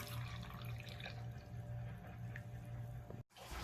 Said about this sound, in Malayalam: അതിലേക്ക് കുറച്ച് വെള്ളം ഒഴിക്കാം